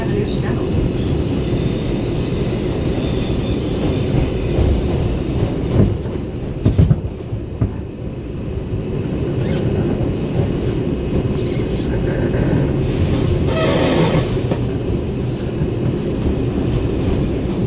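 A number 2 New York subway train rides through Brooklyn with a loud, continuous interior rumble and rattling wheels, plus occasional clanks and squeals across the whole stretch.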